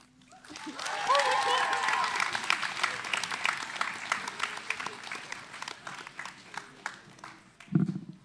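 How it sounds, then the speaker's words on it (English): Audience applause at a high school spoken word event, a sustained wash of clapping with cheering and whoops that builds quickly and then thins out, with a brief voice near the end. "Give them another round of applause."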